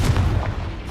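A single Confringo fire spell blast in the Hogwarts Legacy video game, a short booming burst that fades quickly with no talk.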